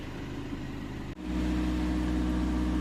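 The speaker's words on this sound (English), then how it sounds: "I have slightly tightened it, not fully, and I have started the engine." A Skoda Octavia MK3 engine running steadily at idle just after starting, a loud continuous low hum with a brief dip before it settles into a stronger, even drone.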